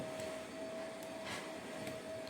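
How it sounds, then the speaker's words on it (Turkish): A household vacuum cleaner running steadily in another room of a home, a constant even whir with a faint tonal hum, fairly quiet and unbroken, with no talking. "evde hala süpürge sesi var"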